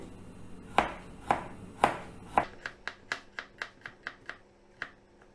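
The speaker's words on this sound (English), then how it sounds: "Peel the garlic and slice them." Peeled garlic being sliced with a knife on a cutting board: crisp taps, first four slow and evenly spaced, then a faster run of about ten lighter cuts, close and clear.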